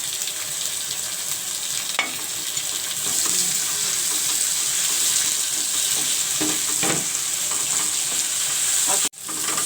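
Tomatoes and green chillies go into a pan of frying onions, giving a loud, steady sizzle with scraping stir sounds over it. The sizzle cuts out abruptly near the end, and nobody speaks.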